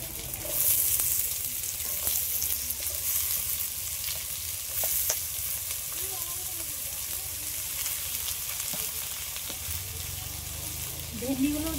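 Small-cut potatoes fry in oil with nigella seeds and chopped onion, a soft steady sizzle with occasional spoon scrapes and faint clinks, fairly quiet throughout.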